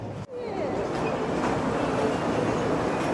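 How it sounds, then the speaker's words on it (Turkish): A tram rumbles steadily past at close range, a continuous low roar with faint squeals of wheels on track throughout, running through the middle of a museum building in Seattle. "Tramvay müzenin resmen ortasından geçiyor raylar."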